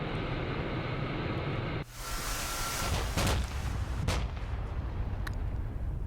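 Explosions and gunfire rumble from an SA-15 air defense system firing at incoming cluster bombs in the DCS flight simulator, a loud continuous roar broken by a sharp burst partway through and scattered bangs afterward.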